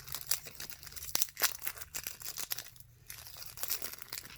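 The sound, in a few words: unwrapping a 5 gum Strawberry Flood pack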